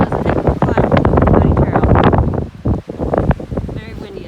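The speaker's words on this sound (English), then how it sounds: "Very windy up here." Strong gusting wind on the exposed summit of Bald Rock along the Pinhoti Trail buffets the microphone in loud, rough bursts, with a voice heard talking through it.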